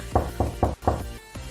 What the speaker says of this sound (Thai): ประตูของห้องประชุมก็ถูกเคาะดัง